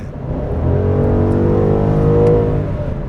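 A BMW M850i Gran Coupe V8 revs up with a rising, throaty exhaust note, swelling and holding, then easing off slightly; loud and close, no voices.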